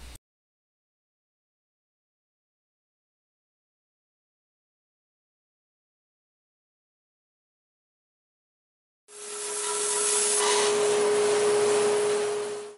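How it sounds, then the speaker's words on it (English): A bandsaw cuts through a mahogany board, a steady broadband whirring roar with a sustained hum that starts abruptly after long silence and runs loud to the end. "This bandsaw is pretty good for the money"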